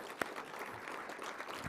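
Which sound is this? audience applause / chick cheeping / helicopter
audience applause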